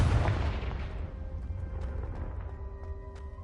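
A Confringo fire spell blasts in the Hogwarts Legacy video game, one heavy booming explosion at the start that rolls off into a long, fading rumble with scattered crackles and faint tonal hums.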